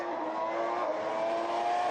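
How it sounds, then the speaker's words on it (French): A Formula 1 car screams past at high revs during qualifying at the 2014 Australian Grand Prix, a loud, steady engine wail with a slight pitch rise, filling the whole moment without talk. "Et Massa qui a bien failli partir à la faute là aussi, au même endroit que Nico Rosberg"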